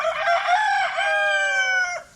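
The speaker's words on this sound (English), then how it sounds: "I've been hearing you crow since about 3." A rooster crows once near a garden, a loud close cock-a-doodle-doo lasting about two seconds with a rising then held drawn-out call.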